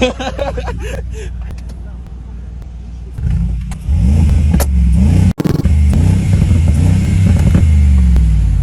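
A car engine revs hard through its exhaust, rising into a deep, loud roar with brief gaps, while people talk nearby.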